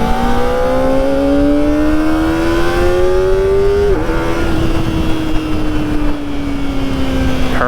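A Kawasaki ZX-4RR motorcycle engine revs up to 12,000 RPM, a loud, close, steadily climbing high-pitched scream that peaks near four seconds, briefly dips, then holds a sustained whine as it slowly winds down, with no talking.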